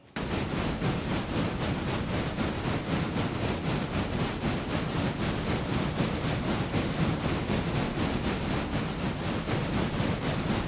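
A heavy coal train running in the Railroader train simulator game, giving a loud, steady broadband rumble with a faint regular pulsing throughout and no voices.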